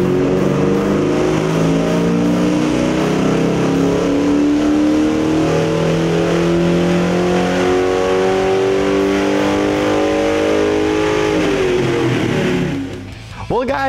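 A 1996–2004 Mustang GT with a 2-valve 4.6L V8, fitted with an aftermarket throttle body and plenum, revs hard on a chassis dyno. Its steady climbing wail runs loud for about twelve seconds, then cuts off abruptly and winds down.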